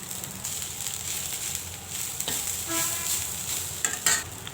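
Flattened rice (poha) tipped into sautéed onions and stirred in a pan, a soft continuous sizzle with a few scraping and clinking stirring strokes near the end, no talking.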